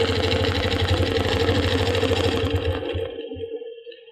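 A sewing machine stitches a line across a Baptist Fans quilt block, a steady fast mechanical whir close by that slows and stops near the end, with no talking.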